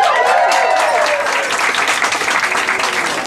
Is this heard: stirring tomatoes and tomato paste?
no